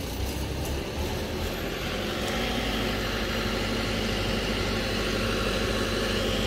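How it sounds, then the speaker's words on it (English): Diesel engine of a Marini MRP 350 remote-control piling rig running loud and close, a dense continuous rumble that steadily rises in intensity as the revs climb. "Now that I've extended the mast all the way up, I'll increase the RPM a little bit more."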